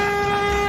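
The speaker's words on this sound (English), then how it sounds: "Take the air horn." A single sustained air horn blast from a logging service truck, loud and steady for under a second, alone with no talk.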